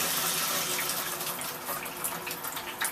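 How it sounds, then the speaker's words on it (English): Hot water pours steadily from a tap into a tub, filling it for a Wonder Wash manual washer; a continuous close, loud rushing splash with no talk. "I fill it full of hot water. As you start running the water in there, it'll level out."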